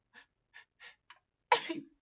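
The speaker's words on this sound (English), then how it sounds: "Despero sneezed." In an audiobook reading, a sneeze is voiced: four short breathy intakes build up, then one loud, sharp sneeze burst follows against silence.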